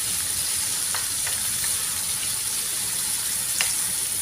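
Sliced beef sizzles loudly in a hot pan for a pechay and meat dish, a steady hiss of frying with a few clicks from stirring and no talk.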